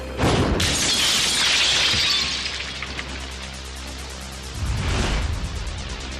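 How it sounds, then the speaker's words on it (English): Glass windows of a building's wall blown in by a bomb blast wave, a loud sustained crashing shatter with a burst of shards lasting about two seconds, then a lower rumbling tail and a second heavy crash near the end. "Military high-speed film shows what it's like when a blast wave hits a wall of glass."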